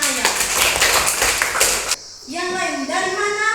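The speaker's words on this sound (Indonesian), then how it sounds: "Tepuk tangan untuk anak ayah." Children clapping their hands during a religious education class, a busy rhythmic burst of claps for about two seconds, then the clapping stops and a voice speaks.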